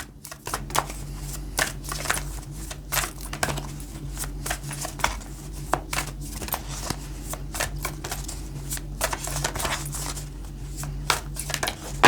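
Tarot or astrology cards being shuffled up close, a steady run of soft papery riffles and flicks with small taps, going on alone with no talk.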